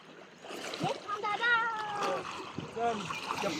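Splashing and trickling of monsoon floodwater in the Konkan as people wade through it, moderately close, mixed with voices talking over the water.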